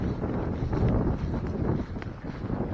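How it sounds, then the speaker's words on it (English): Low, rumbling wind buffets the microphone on a lake bank during bass fishing, gusting steadily with a faint rustle and no talk. "I mean, there's wind here, finally."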